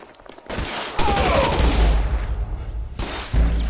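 Tommy gun fire in L.A. Noire during a shootout, heavy sustained bursts of loud automatic gunfire with short pauses between volleys, no talking.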